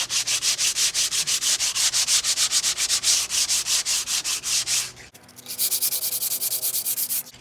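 Coarse 80 grit sandpaper worked by hand over a rotting wooden window frame, loud close rhythmic scratching strokes in quick regular succession, a brief pause, then the strokes resume at a slightly different pitch.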